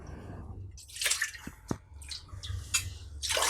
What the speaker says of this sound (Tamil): குக்கரில் தண்ணி ஊற்றிடுவோம்.